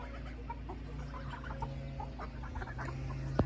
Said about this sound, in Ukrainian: вже он наші. віандоти ходять тут